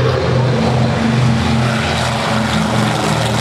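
P-40 warbird fighter plane flying low over the treetops at a beach airshow, a loud steady propeller-engine drone with a constant rough throb, close and continuous.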